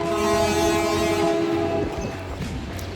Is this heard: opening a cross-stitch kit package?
no